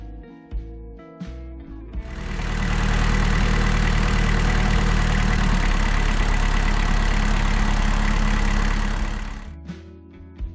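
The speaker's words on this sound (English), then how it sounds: "you could definitely hear the tone shift in the engine when the alternator initialized and the workload on the engine went up" A boat or vehicle engine charging LiFePO4 lithium batteries deepens and strains as its alternator kicks in under load, a loud steady drone swelling in about two seconds, holding, then dropping away near the end.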